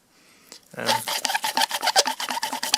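Close, repeated gritty scraping strokes in a quick back-and-forth rhythm, like metal being ground against metal by hand, as a valve is lapped into its seat with a large flat-bladed screwdriver on a Yanmar marine diesel engine.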